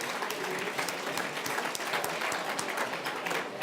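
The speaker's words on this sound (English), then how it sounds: "Perhaps we should give a round of applause to the chefs in the kitchen and the wonderful service for that delicious dinner" A banquet audience at a business awards dinner applauds the chefs and service staff, steady dense clapping from a large crowd filling the whole stretch without a break.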